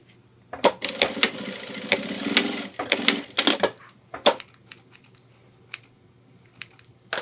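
Sewing machine stitching a folded webbing top compression strap on a homemade 30L ultralight hiking backpack: a few short bursts of rapid stitching up close, followed by scattered light clicks and handling noises.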